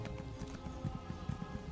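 Horse hooves clip-clop steadily in The Elder Scrolls Online: Necrom, a repeated rhythmic trot of hoofbeats over a constant game ambience and music bed.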